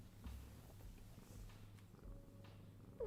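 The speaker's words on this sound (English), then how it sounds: "Oh, she's purring." A cat purring softly and steadily, a low rhythmic rumble close by in a quiet indoor room, with no talk over it.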